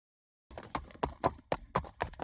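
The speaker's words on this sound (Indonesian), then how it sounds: "sebuah kereta kuda sedang berjalan menuju kediaman keluarga Islan" Hooves of a horse pulling a carriage clip-clop in a brisk, steady rhythm, close and distinct, starting after a moment of silence.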